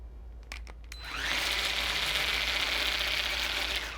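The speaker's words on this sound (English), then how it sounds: "now we're ready to get a whisking" Black+Decker kitchen wand whisk attachment spinning up after a few clicks, then running as a steady high whirring hum, close and fairly quiet, with no talk.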